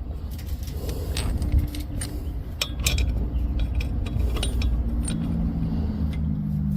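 Metal washers picked up and handled during a Husqvarna Z254 riding mower PTO clutch install, with light clinking and jangling over a steady background hum throughout.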